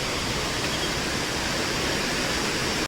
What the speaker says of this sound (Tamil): ஸோ ஃபால்ஸ் வந்து ரீச் ஆகிட்டோம்.